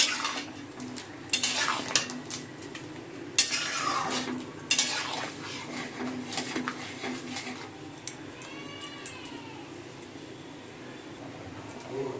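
A spoon scrapes and clinks against a pan while vegetables are stirred with sugar and spice tempering for a Bengali vegetable dal, with sharp intermittent knocks over a soft background of faint sizzle.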